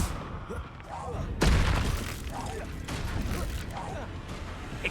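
A Confringo spell explosion in the Hogwarts Legacy video game during a troll fight: a sharp, loud blast lands early, followed by rumbling impacts and combat noise, with a voice talking over it.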